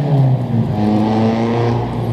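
A loud car engine roars past close by on Boulevard Pie-IX in Montreal's Hochelaga borough, a steady throaty rumble that holds for a couple of seconds.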